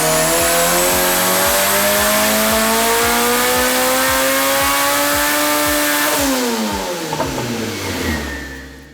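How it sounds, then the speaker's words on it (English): A race car engine runs hard on a dyno, pulling about 536 wheel horsepower as its roar climbs steadily in pitch through a long, loud pull, then drops abruptly and winds down near the end. "the engine sounds incredibly healthy"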